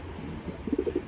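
A 2025 grizzle shadel pair of racer pigeons gives a few close, rounded coos in quick succession near the end, over a low background murmur.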